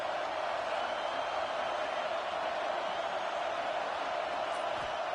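Steady stadium crowd roar from the College Football 26 video game on PS5, a constant dense wash of many voices with no breaks, moderately loud throughout.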